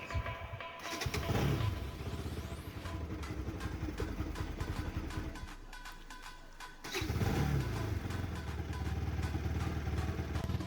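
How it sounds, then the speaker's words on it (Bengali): A mini superbike with a cold-start problem fires up and idles with a close, rough engine rumble, drops off, then restarts and runs again. "আমার এটা মিনি সুপার বাইক তাই পোল স্টার্ট করতে"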